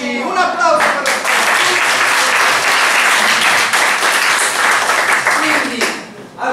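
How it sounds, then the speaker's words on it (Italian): Audience applause for a yellow improv theatre team at a club match, loud and sustained for several seconds before fading, with brief talk at the start and end. "Un applauso per voi."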